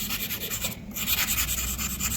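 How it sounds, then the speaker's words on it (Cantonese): A jewellery frame's outer edge being sanded with 400 grit sandpaper wrapped around a file, a soft, close rhythmic rubbing of quick back-and-forth strokes with no voices. "咁我哋咧就攞張400砂紙去散抹個外框佢啦"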